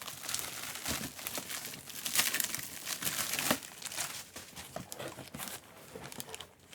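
Wrapping paper on a birthday package crinkles and tears in continuous, uneven rustles, close and fairly quiet, with no talk over it.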